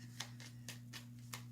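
Tarot cards shuffle in quick riffling bursts, about five short crisp flurries, close and soft over a low steady hum.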